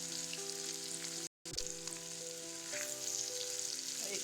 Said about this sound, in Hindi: हम एतऽ पनीर के कम तेल दऽ कऽ कर लगा कऽ छानि रहल छी